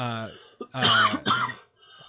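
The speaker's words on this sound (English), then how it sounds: "This is a scary time to be coughing." One person coughs and clears their throat in a few harsh, close bursts with short gaps, loud and dry, without any speech around them.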